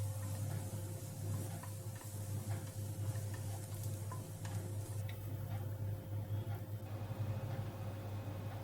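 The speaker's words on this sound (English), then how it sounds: "Saute the garlic and onion for a while" Finely chopped garlic and onions sauté in a pan, a steady, close sizzle with faint stirring ticks and a low hum underneath, continuous throughout with no talking.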